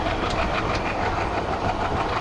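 The Haridwar–Sri Ganganagar Intercity Express 14711 runs along the rails near Jagadhri with a loud, steady roar and a rhythmic clickety-clack of wheels over the rail joints, heard up close with no voices.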